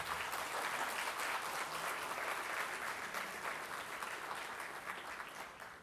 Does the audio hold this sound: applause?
yes